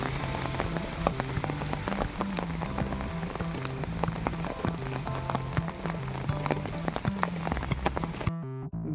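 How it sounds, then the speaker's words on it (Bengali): Steady rain falls on an open village field in Bankura, a dense, even patter of drops close by, continuing unbroken until it cuts off abruptly near the end. "বৃষ্টি পড়ছিল ভালোই।"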